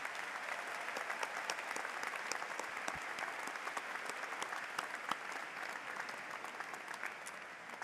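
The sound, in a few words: audience applause for faculty at university commencement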